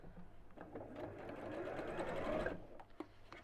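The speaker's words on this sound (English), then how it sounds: "I'm just sewing in that seam mark, the crease mark" A domestic sewing machine stitches a crease-mark seam through fabric at close range, with a quiet, rapid mechanical whirr that swells and then stops, followed by faint handling clicks.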